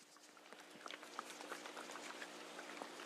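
Warm water with dissolved nutrients sloshes inside a capped plastic pool chemical container being shaken, a quick irregular run of close, soft liquid splashes and knocks with no talking.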